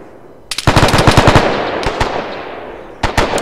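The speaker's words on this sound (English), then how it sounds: "Let's take some shots into the grass." Automatic gunfire shots into the grass in the video game ArmA 3 (Faces of War mod, Japan vs US): a loud rapid burst of about eight shots, then two single reports, then another short burst, each ringing out with echo.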